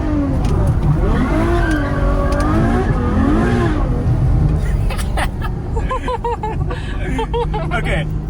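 A Ferrari F12 slides sideways on a slippery road, its engine revving and wavering in pitch while tires squeal intermittently, with talk and background chatter in the cabin.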